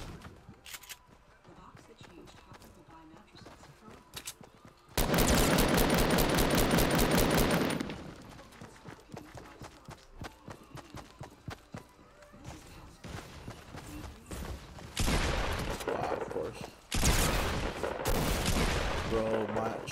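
Gunfire in the Fortnite video game, including shotgun blasts: a loud sustained burst of rapid shots mid-clip, then scattered single shots and two more loud bursts later, with quieter game sounds between.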